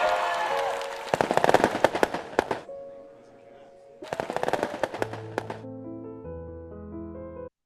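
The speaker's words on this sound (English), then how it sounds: "When you successfully complete a theme, fireworks and celebration streamers appear." Cartoonish fireworks in the VR word search game Travel The Words crackle and pop in two rapid bursts with a cheering crowd, followed by a short rising musical chime jingle.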